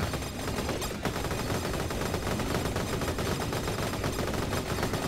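Rapid weapon fire in the video game Vampire Survivors, a dense, continuous stream of fast gunshot-like bursts, loud and unbroken throughout.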